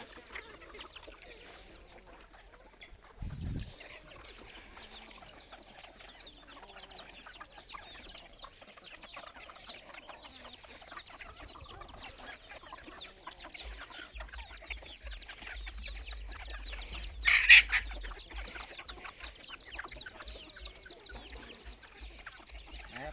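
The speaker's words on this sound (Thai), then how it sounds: "ไก่ป่าสวยๆครับไก่ป่าลูกผสมนะครับ" Hybrid jungle fowl chickens cluck on a farm beside rice fields, with soft, scattered clucks over faint outdoor background noise and one brief louder call near the end.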